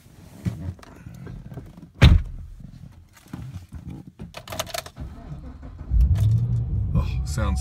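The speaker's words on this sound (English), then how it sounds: "So let's climb in and fire this one up." A 2014 Chevrolet Camaro 2SS engine cranks and fires up into a loud low rumble near the end, after a door thunk and some cabin shuffling and faint talk.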